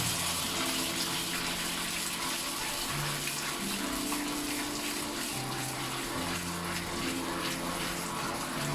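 Water poured into tomato sauce in a hot oiled pan, a steady running, gushing wash that continues without pause throughout, fairly soft.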